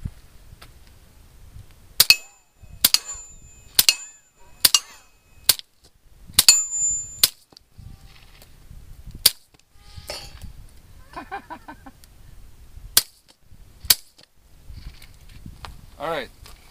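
About ten sharp gunshots crack out at uneven intervals as rounds are fired quickly at a wrapped ham, and people talk between the later shots.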